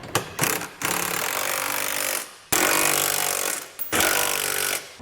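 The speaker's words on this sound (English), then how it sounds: "I'll come back with a 17mm socket and tighten everything down" Trailer hitch bolts on a 2010 Toyota Highlander being run down with a 17mm socket on a power impact tool, loud close buzzing and rattling in three long bursts separated by short pauses.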